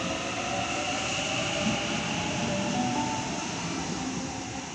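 A train at Killara station platform rumbles steadily with a broad, continuous rolling roar and faint high wheel hum, holding loud and even before easing slightly at the end.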